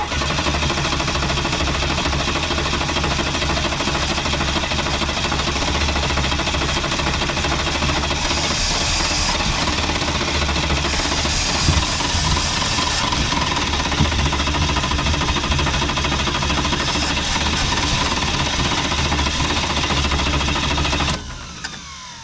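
A car engine salvaged from scrap for a movie-set makeover is cranked, making a loud, rapid, continuous chattering for about twenty seconds before it stops abruptly.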